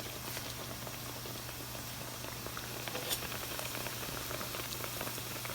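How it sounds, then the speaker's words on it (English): Mandazi dough frying and puffing up in hot oil, a steady dense sizzle and crackle that runs unbroken throughout with no voices. "So I'm gonna start frying."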